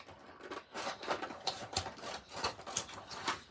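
A Cricut cutting machine slices print-then-cut Valentine images, giving a quiet run of rhythmic clicking and whirring pulses that rise and fall about twice a second, with no voices.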